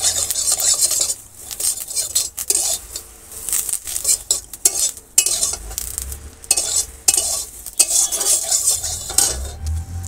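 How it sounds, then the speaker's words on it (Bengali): Neem leaves frying in oil in a pan in a village kitchen, with a steady sizzle broken by repeated scraping and stirring strokes of a metal spatula against the pan. "নিম পাতা ভাজবো, নিম পাতা ভাজবো।"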